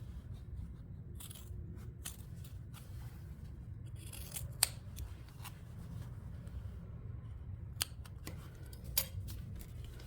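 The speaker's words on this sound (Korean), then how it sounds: "잘라서 버려주세요." Scissors snipping through leftover fabric scraps while sewing a mini eco bag, a series of crisp close cuts and shearing crunches at an irregular pace over a low steady room hum.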